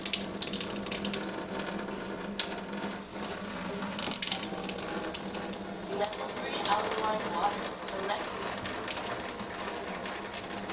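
Water runs steadily from a NEXUS water ionizer tap, a continuous close splashing flow with faint background sounds and no speech.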